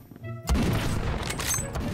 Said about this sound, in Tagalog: So it's a 50 caliber na baril nga.